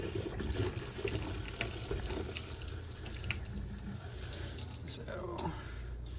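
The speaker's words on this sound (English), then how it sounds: "Sounds like the pump is priming though." A boat's fresh water system pump primes and runs during winterizing of a Marine Trader, with water running through a tap or sink, heard as a steady wash of liquid noise under faint whispery talk.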